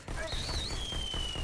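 Gunfire in the Robo Recall VR video game cracks in quick repeated bursts, mixed with a rising electronic whine and other game noise.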